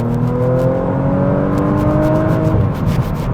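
A car with an N47 engine runs at half throttle while driving, giving a steady, loud, continuous drone that rises slightly in pitch, with no talk over it.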